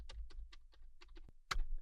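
Keys clatter on a computer keyboard in a short, uneven burst of separate clicks, quiet and close, with a sharper final tap like the Enter key.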